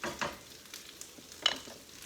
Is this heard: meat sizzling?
yes